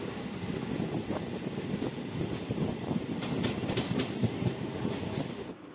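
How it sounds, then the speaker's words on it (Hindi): Passenger train running at speed on rails on the way to Varanasi, a steady loud rumble with rhythmic clickety-clack, heard from on board with no talking. "दरौली से निकलने के कुछ समय बाद ही हमारी ट्रेन अपनी रफ्तार में पकड़ ली।"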